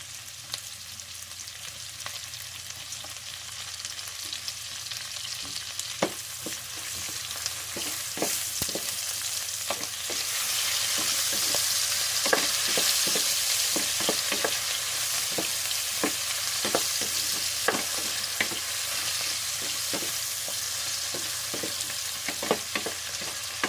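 Tomatoes sautéing with pork and bottle gourd in a pan, a steady close sizzle and frying hiss with repeated sharp clicks and scrapes of a utensil stirring throughout.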